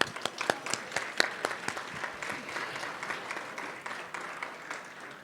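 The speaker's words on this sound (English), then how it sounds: "please, let's give them an applause" A dinner audience at a keynote event breaks into warm applause, a dense patter of many hands clapping with crisp individual claps standing out, fading slightly toward the end.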